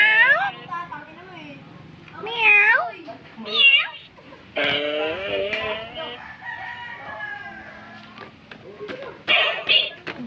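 A Talking Tom cat toy meows and squeaks out high-pitched, warbling repeats of a voice in short bursts, while children talk over and around it nearby.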